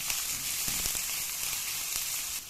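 Chopped green and red peppers and chili sizzle steadily in hot oil in a pan, a close hissing fry broken by a few soft scraping knocks as they are stirred.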